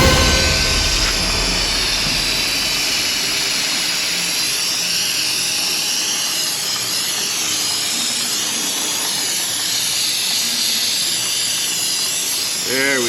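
A water spray rinses an engine part during repair of a leaking crankshaft seal, producing a steady, loud, close hiss that runs unbroken throughout and ends with a short rising whistle.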